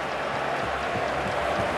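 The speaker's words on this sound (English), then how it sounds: "I can hear some boos. A lot of boos. Some cheer." A hockey arena crowd at a Montreal Canadiens versus Toronto Maple Leafs game gives off a dense, sustained roar of mixed boos and cheers. A commentator's voice is faintly mixed in.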